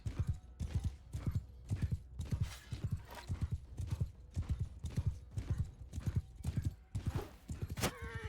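Galloping horse hooves in the video game Mount & Blade 2 Bannerlord pound out a steady, fast clip-clop rhythm for the whole stretch, close and fairly loud with battle noise mixed underneath.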